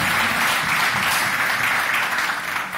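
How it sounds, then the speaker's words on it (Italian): Dense, steady applause from an event audience in a hotel hall, a continuous wash of many hands clapping with no pauses over roughly three seconds. "Un applauso"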